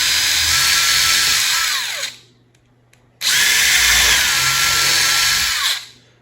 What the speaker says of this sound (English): I've marked the bases here where we're going to drill a couple of holes